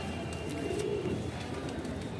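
Madrasi pigeons coo softly at a Jabalpur loft, low murmuring calls blending over a faint background hum, moderately close and without speech.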